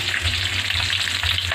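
Tilapia fries in hot oil with a loud, dense, continuous sizzle and crackle heard up close, lasting under two seconds with no talking.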